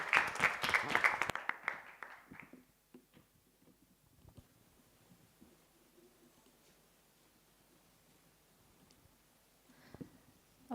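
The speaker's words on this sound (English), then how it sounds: "Round of applause for Easy Health, Hasna Al-Mutawa." An audience applauds after a startup pitch at a regional finals event, with a burst of loud, dense clapping that fades within a couple of seconds into faint room noise and scattered small sounds.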